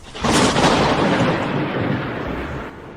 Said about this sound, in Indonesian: Ini cuma suara petir saja.